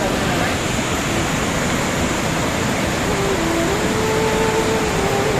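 A dark, fast mountain river on a trek in Taplejung, Nepal, rushes loudly and continuously as a broad, steady roar close by, with a voice speaking faintly beneath it.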